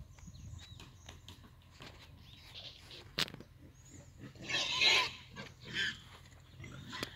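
Pigs grunt and squeal at early-morning feeding time, with bursts of louder squealing midway, amid clatter and outdoor farmyard noise in the countryside.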